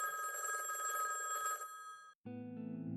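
A telephone rings unanswered with a steady electronic warble, close and clear, then breaks off briefly before a different pulsing tone begins.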